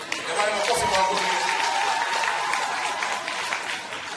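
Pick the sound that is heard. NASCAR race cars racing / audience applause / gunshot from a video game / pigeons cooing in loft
audience applause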